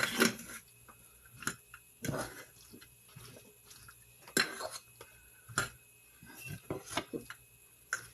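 Thanksgiving stuffing ingredients being mixed together by hand in a bowl, with scattered soft clicks, wet squelches and light knocks of utensil against dish, fairly quiet with gaps between sounds.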